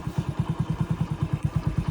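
A motorcycle engine runs close by at night while the bike is brought indoors out of the rain, chugging in a fast, even pulse of low thumps with faint clatter, and no voices.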